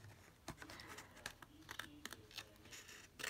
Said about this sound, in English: let's get the good scissors.